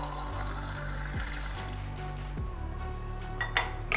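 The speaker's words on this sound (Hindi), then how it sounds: "एक ग्लास पानी भरना जरूरी है" Tap water pours into a drinking glass in a steady, continuous stream, with a low background hum and a few faint clinks near the end; no one speaks.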